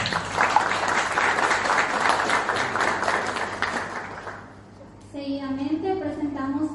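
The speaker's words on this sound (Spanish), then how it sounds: "Un aplauso." An audience applauds a journalist being introduced at a Spanish-language event, dense sustained clapping that gradually softens and fades, then a voice begins speaking.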